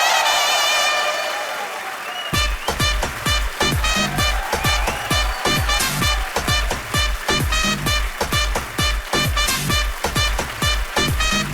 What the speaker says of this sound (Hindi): सो जोरदार तालियों के साथ स्वागत कीजिए डॉक्टर मशहूर गुलाटी जी का